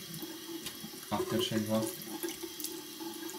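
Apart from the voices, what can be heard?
tap water running while rinsing face with lukewarm water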